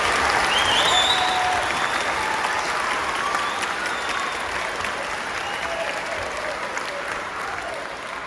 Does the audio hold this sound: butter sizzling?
no